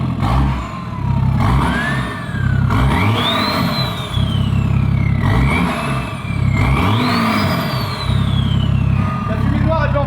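A BMW 335d diesel with a downpipe revs repeatedly, three or four strong pulls where the pitch climbs and falls back, with a turbo whistle rising on top and the second turbo kicking in, loud and close.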